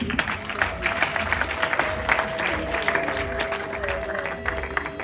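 Wedding guests applauding at a reception, dense continuous clapping from a crowd that holds steady throughout, with a faint tonal hum underneath.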